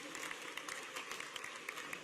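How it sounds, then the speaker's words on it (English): Audience applause at a town hall in Perry, Georgia, a steady spread of clapping hands at moderate distance, running unbroken for about two seconds with a few sharper claps standing out. "can you give yourselves a round of applause for coming out to hear me?"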